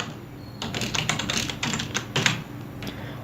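A computer keyboard being typed on at a quick, irregular pace, a close run of clicky keystrokes with short gaps between bursts.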